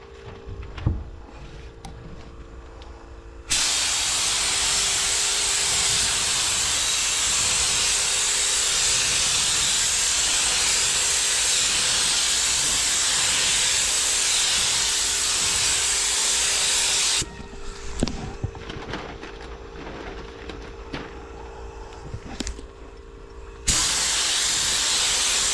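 Second coat of 545 epoxy primer sprayed from a spray gun, a loud continuous hiss lasting about fourteen seconds, then quieter handling noises before the spraying resumes briefly.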